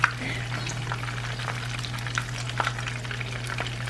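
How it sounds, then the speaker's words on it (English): Chicken pieces frying in hot oil for sliders give a steady, close sizzle with intermittent crackles and pops, and no one talks over it. "You guys hear that sizzle?"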